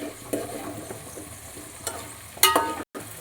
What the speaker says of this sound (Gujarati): હવે આપણે એમાં નાખશું ટિંડોરા